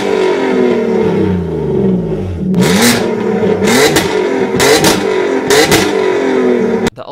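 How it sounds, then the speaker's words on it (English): An Alfa Romeo V6 engine revs up loudly in repeated bursts, the pitch climbing and falling with each throttle blip, close by and alone. "This engine was widely praised for being the best sounding V6 on the road."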